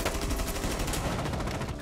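Rapid, dense gunfire bursts from a shotgun in the tactical shooter Rainbow Six Siege, loud and continuous throughout with a cluttered, reverberant game mix and no talking.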